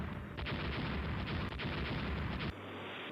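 Torpedo strikes on an enemy ship in the Rule The Waves naval warfare game: a loud, dense roar of detonations and rumbling blasts with sharp bursts, close and sustained, dropping to a lower rumble at the end.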